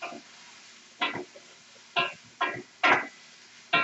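Shrimp, sausage and asparagus stir-frying in a pan: six short, separate bursts of sizzle and scraping, each spaced about half a second to a second apart over a quiet background.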